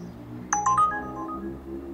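Smartphone chiming with an incoming Uber Priority ride request, a short bright electronic tone sequence rising over a low background hum, near and fairly quiet.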